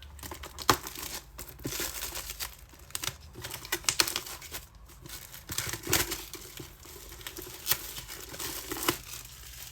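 A new scrapbook album is unwrapped from its plastic packaging, giving close, quiet crinkling and tearing with scattered sharp rustles and handling taps, without any talk.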